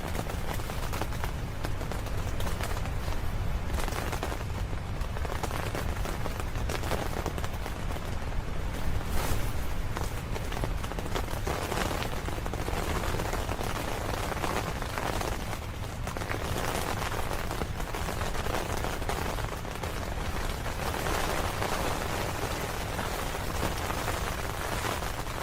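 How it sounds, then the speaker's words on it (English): Steady rain falling outside, a dense continuous patter on surfaces that stays even and fairly loud throughout, with no talking. "Rain."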